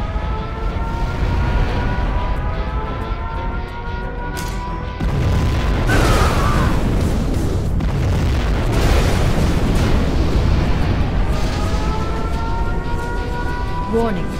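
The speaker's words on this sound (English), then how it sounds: "We have launched our nuclear missile." A heavy, rumbling nuclear missile explosion in Command & Conquer Generals Zero Hour swells and rolls on for several seconds, deep and booming, with a synthetic game-like quality and no talking.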